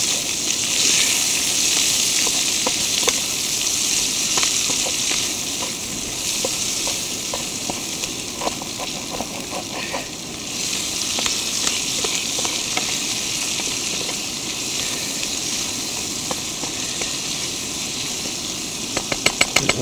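Vegetables with ginger, spring onion and chilli stir-fry in a pan over an outdoor camp stove, giving a steady, loud sizzle with occasional scraping stirs throughout and no talking.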